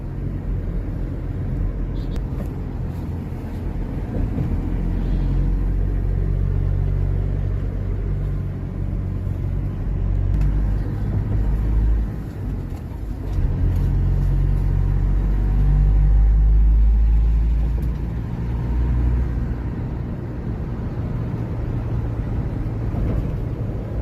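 Steady low traffic rumble on the airport road leaving Mumbai airport, a continuous deep road-and-engine drone that swells slightly mid-way, with no clear voices over it.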